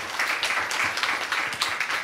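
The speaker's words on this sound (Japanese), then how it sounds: "やっぱ拍手多いですね" An audience claps at a recorded café talk event at Okinawa University, a moderately loud patter of hands that pulses through the whole short stretch, with faint voices underneath.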